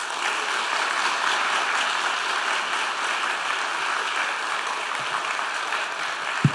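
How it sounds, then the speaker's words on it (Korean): A church congregation welcomes a speaker at a Sunday afternoon service with big applause, a continuous, even wash of many hands clapping heard from a little distance, with a single sharp knock near the end. "기립박수는 아니지만 큰 박수로 우리 맞이하겠습니다"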